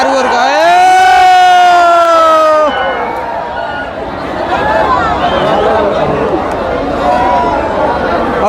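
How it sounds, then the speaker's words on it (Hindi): Large crowd at Pawan Singh's election rally in Paharpur, East Champaran, opening with a loud rising and falling siren-like tone, then a dense roar of chatter and shouting from many people, with someone talking over it. "देखिए कितना भीड़ बा पहाड़पुर में।"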